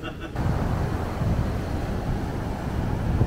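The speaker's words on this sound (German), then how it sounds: "Ihr hört es, es ist ziemlich windig heute." Strong wind gusts on a beach in Mallorca, a steady loud roar buffeting the microphone throughout.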